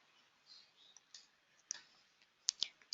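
A few sharp computer mouse clicks while choosing settings in translation management software, quiet and close, with a quick double click near the end.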